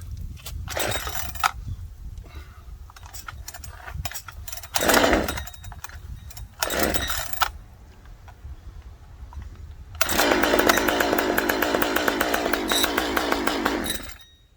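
An alcohol-fuelled chainsaw engine running rough, sputtering in uneven bursts and stalls, then holding a loud, steady rasping run for the last few seconds; close by, with no talk.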